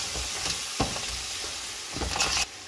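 Madras masala spices fry and get stirred in a hot pan, with a steady sizzle broken by a few scraping stir strokes, close and continuous with no talking.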